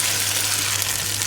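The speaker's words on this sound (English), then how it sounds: "I'm just gonna pour the palm oil." Palm oil poured into a hot pot of browning chicken and meat for sweet potato leaf soup, giving a loud, close, continuous hissing sizzle with no talking.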